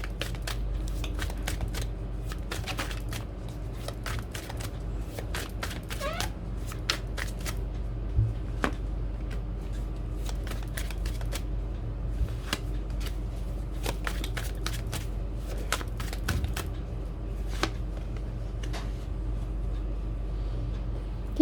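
Tarot cards are shuffled continuously over a low steady hum, giving a long run of quick, sharp riffles and slaps in uneven bursts, close by and fairly quiet, with no voices.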